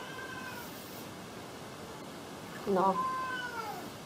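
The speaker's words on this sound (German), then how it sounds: "Wir schauen mal, ob sich bewegt die Katze" A cat meows briefly near the end, a short harmonic call rising out of steady background hiss while a person speaks quietly in German.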